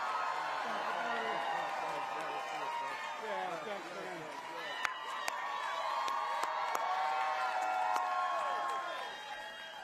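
A large crowd at a Kamala Harris campaign rally in Winston-Salem cheers and applauds, with whoops and shouts layered over steady clapping throughout.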